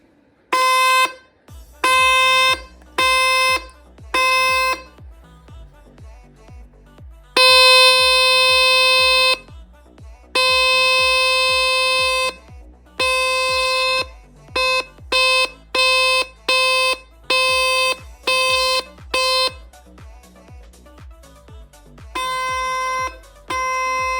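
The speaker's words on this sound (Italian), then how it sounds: "Andiamo a pigiare il buzzer." A homemade electric buzzer horn blares in repeated harsh bursts, some short and some held for a couple of seconds, loud and close with brief silences between.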